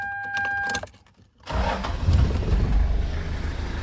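A Toyota Land Cruiser HZJ105 with a 1HZ diesel engine, its glow plugs on a push-button switch, chimes briefly before a short cranking pause, then the engine fires and settles into a loud, close, rough idle.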